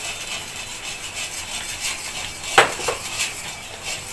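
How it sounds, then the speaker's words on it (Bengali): Semolina stirred slowly into a pot of boiling liquid while making oil-free palm fritters, with soft scraping and a couple of sharp metal clinks of spoon against pot midway. No voices. "এখন আমি সুজিরগুলা দিয়ে দিব আর আস্তে আস্তে লাড়তে থাকবো।"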